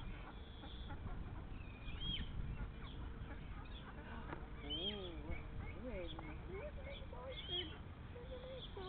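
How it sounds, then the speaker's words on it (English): Ducks at a pond, their quacks and calls coming at close range over a steady farmyard background, with people talking nearby throughout. "So I'd like to get in there with those ducks."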